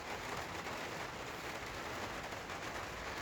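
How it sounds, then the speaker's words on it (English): Rain drumming on the insulated roof of a converted school bus, a dense, soft, even patter heard from inside with nothing else over it. "there's nothing quite like the sound of rain on the bus"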